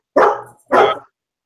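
A dog gives two loud, close barks in quick succession, each short and full, with silence after.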